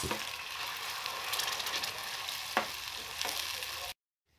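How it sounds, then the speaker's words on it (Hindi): Spices and chopped tomato for a brain masala (maghaz fry) roast in a pan, producing a continuous close sizzle broken by a few sharp stirring scrapes before sudden silence. "अब मसालों को अच्छी तरह से भूनना है"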